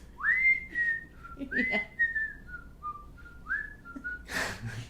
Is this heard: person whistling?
yes